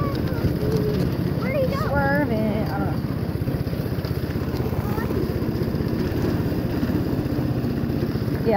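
A go-kart engine idles and runs with a steady, buzzing throb at close range, continuous through the whole stretch, while a voice is heard talking over it briefly near the start.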